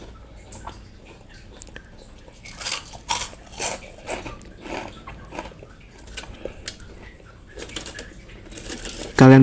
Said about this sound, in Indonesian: ini bisa kalian dengar kriuk banget ya, renyah banget, rasanya gurih